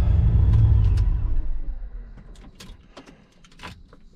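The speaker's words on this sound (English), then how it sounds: "Now what we're gonna do is go ahead and shut the car off." A boosted Pontiac GTO engine being shut off: a loud, close rumble winds down and fades within about two seconds, then quiet clicks and small mechanical ticks follow in the stillness.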